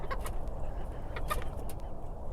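Soft clucks and short chicken calls from hens and young roosters come in scattered bursts over a rumbling, windy winter background, fairly faint and a little distant.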